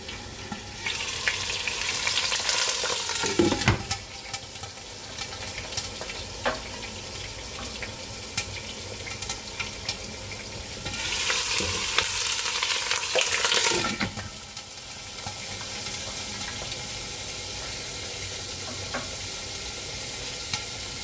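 Shredded cabbage with shrimp and tofu fries in a covered pan with a constant hissing sizzle, swelling into two louder splattering bursts, one brief and one lasting a few seconds, before settling back to a steady hiss.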